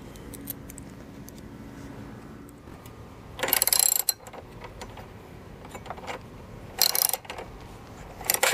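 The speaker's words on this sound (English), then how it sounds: "So I have a socket as well as a fixed wrench, 10mm. I'm gonna go ahead and get these things installed here." Bursts of quick metallic ratcheting from a socket wrench tightening 10mm bolts and nuts while fitting an extra solar panel on an RV, in short separate spurts against a quiet background.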